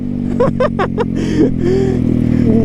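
A motorcycle engine revs in short bursts for wheelies, with several quick rising throttle blips up close, then a steadier loud drone.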